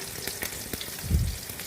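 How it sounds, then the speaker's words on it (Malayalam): Sardines fry in a pan, giving a steady close sizzle with a brief louder crackling burst near the end. "ഇപ്പുറത്ത് നമ്മൾ മത്തി പൊരിക്കുന്നുണ്ട്"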